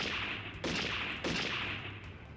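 Two gunshots in the Higurashi video game crack out about half a second apart, each sharp report followed by a short ringing decay. No voices are heard.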